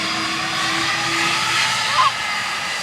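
Boeing 747 jet engines roaring: a steady, broad hissing roar that fills the whole moment, loud and continuous, with a brief faint extra sound near the end.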